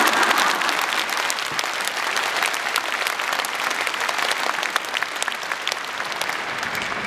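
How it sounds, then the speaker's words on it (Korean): A congregation at a celebration for newly ordained bishops bursts into loud, close applause, a thick, continuous clatter of many hands that stays strong from start to finish. "이런 때 박수 쳐드려요."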